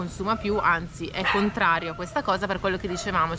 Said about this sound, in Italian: Sentite il cane in sottofondo